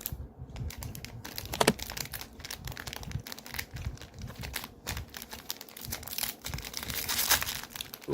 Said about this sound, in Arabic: نفتح الكيس التاني